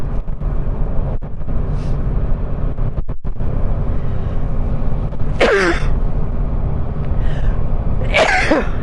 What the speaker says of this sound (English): I'll start sneezing down here because it's a dust cloud in this area.